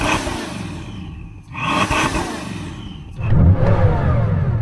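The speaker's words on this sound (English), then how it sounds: "So I am going to rev up this engine." A supercar engine, from a Lamborghini Huracán drag-race lineup, revs loudly and close in repeated blips that rise and fall, then climbs into a deeper sustained roar, with no talk over it.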